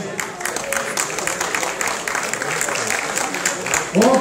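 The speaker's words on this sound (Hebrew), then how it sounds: "כל הכבוד, מחיאות כפיים." An audience applauds after a placing is announced at a young men's physique bodybuilding competition, a dense wash of clapping under loud crowd noise and a voice over the room.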